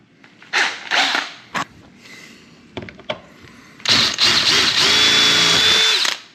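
A power drill with a 3/16 bit whirs in several short bursts, then runs in one long, steady, high-pitched drilling stretch, close and loud, while installing a front lip on a Mazda Miata.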